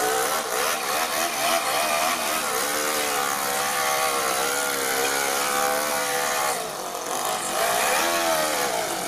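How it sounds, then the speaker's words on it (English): A radio-controlled Ford F450 truck with a Toyan FS-L200 engine does a burnout, its small engine screaming loud and sustained with wavering revs and a brief dip near the end. "That was a good burnout though."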